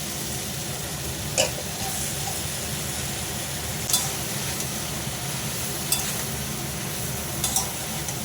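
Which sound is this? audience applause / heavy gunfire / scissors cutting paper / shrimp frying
shrimp frying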